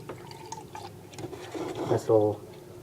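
A cup of milk being poured for cake batter, a gurgling liquid stream that swells toward the end while a person talks over it.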